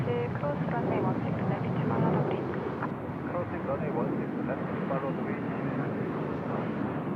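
An Air Macau airliner in special livery lands at Seoul Incheon airport, hovering just above the runway with a steady, heavy jet roar that stays loud and unbroken throughout, mixed with wind noise.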